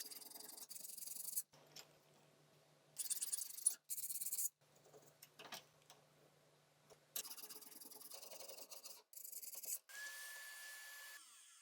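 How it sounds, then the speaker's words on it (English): Repeated rasping strokes of a file smoothing cut-off scrap-wood pins, in bursts with short pauses, close and fairly quiet. "smooth them out with a file"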